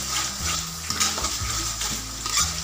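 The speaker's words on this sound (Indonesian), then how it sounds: "Nah, ini jangan lupa diaduk terus ya." A spoon stirs Bolognese sauce with extra spicy chili sauce in a hot pan, scraping and clinking in quick repeated strokes over a continuous close sizzle.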